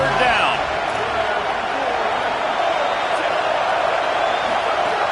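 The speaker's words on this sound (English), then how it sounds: "Here comes the noise from this big crowd in Happy Valley on third down." A big football stadium crowd in Happy Valley roars on third down, a dense, loud, sustained wall of noise that holds steadily throughout, with a commentator's voice partly heard over it.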